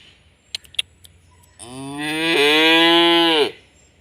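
A month-old calf lets out one long, loud moo close by, preceded by a few sharp clicks and knocks.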